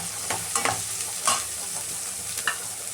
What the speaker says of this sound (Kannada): ಇದನ್ನೊಂದು 2 ನಿಮಿಷ ಚೆನ್ನಾಗಿ ಫ್ರೈ ಮಾಡ್ಕೊತೀನಿ